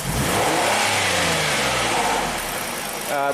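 Ford Explorer V6 engine after a swap being snap-revved, a loud rising roar that climbs and then settles, followed by a second brief rev near the end, heard close up.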